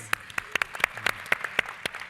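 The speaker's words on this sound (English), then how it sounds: "Big round of applause for all of you guys." Small audience applauding at a real estate conference panel, scattered individual claps in a light, uneven patter, moderately close.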